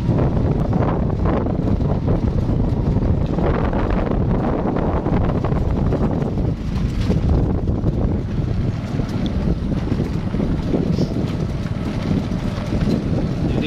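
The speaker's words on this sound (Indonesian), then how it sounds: "Kita dengar mesin sengsau ya." A chainsaw engine runs steadily in a remote village in North Tapanuli, where timber is cut into planks, its broad droning roar continuous and fairly loud throughout with wind buffeting the microphone.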